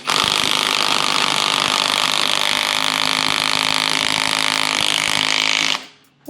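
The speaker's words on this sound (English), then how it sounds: "let's see if that little impact can break this loose" A small Milwaukee impact wrench hammers steadily on a large stubborn bolt in an engine bay, a loud continuous rattling whir lasting about six seconds before cutting off abruptly.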